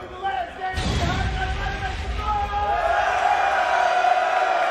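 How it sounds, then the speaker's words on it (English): A crowd at a Tekken tournament grand final swells into cheering and whoops, with a sudden crash-like burst early on, then sustained loud excitement running under commentators' voices. "Crowd getting into it."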